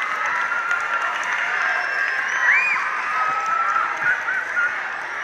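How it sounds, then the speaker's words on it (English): An audience at an elementary school music festival applauding a performer, with steady clapping and crowd murmur throughout, a few whoops riding over it. "A nice round of applause to Ricardo Velez."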